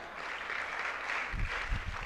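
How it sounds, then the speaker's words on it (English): An audience at a national public speaking competition grand finale claps steadily, a moderate wash of applause sounding from the hall with no talk over it. "A round of applause for him."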